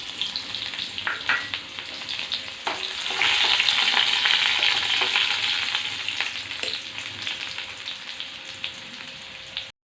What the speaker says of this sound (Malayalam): ചട്ടി ചൂടായി ഇനി നമുക്ക് എണ്ണ ഒഴിച്ചു കൊടുക്കാം അങ്ങനെ നമ്മൾ കടുക് പൊട്ടി ഇനി അതിലേക്ക് ചുവന്നുള്ളി ഇട്ട് കൊടുക്കാം